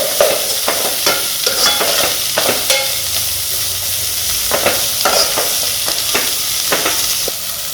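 Ginger garlic paste fries loudly in a pan for a goat intestine gravy, with a continuous close sizzle broken by frequent scraping clicks from stirring, and no talking.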